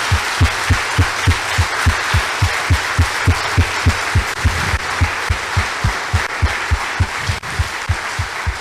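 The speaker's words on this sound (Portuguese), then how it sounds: "Eu estou com vontade de aplaudir Jesus" Congregation clapping in a Brazilian church service, a loud rhythmic unison clap of steady, regular beats roughly every third of a second, sustained throughout with no talking.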